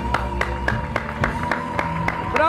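Studio audience applause on an Argentine television show, heard as distinct rhythmic claps over a steady musical backing with low tones, fairly loud and close throughout.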